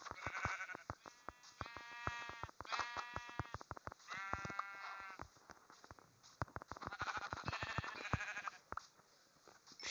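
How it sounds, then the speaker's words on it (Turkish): Sheep in Minecraft bleat repeatedly, short nasal game-sound baas coming one after another in quick clusters over about ten seconds, fairly close and clear with no talk. "Gel bakayım koyun."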